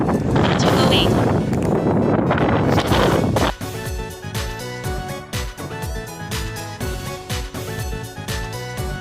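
High wind roars loudly and steadily, buffeting the microphone, then gives way to a cluttered stretch of knocks and clatter as gusts push trash cans and lawn furniture around.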